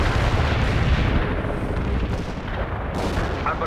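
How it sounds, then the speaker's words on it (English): A heavy artillery barrage in the video game World in Conflict rolls on as a dense, continuous roar of overlapping booms and blasts. The sound is loud and unbroken from start to finish. "We can deploy and lay down the heavy barrage."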